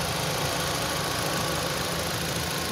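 A Maruti Suzuki Brezza LXi petrol engine idles, a steady, even rumble with a faint mechanical ticking, continuous and moderately quiet, with no talk.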